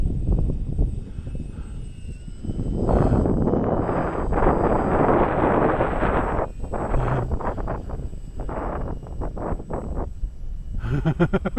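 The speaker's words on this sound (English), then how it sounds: "And the wind's wanting to blow it that way." Strong wind buffets the microphone at an outdoor model plane flight of a Draco aircraft, gusts swelling and dropping in loud broadband rushes with a faint engine drone underneath.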